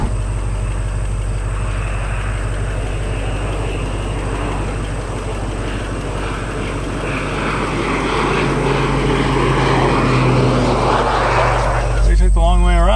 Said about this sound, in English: A crop duster again.